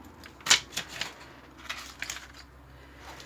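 Scissors snip through vellum offcuts left over from parchment craft, making a few crisp cuts, the first one louder, then lighter scattered snips close by.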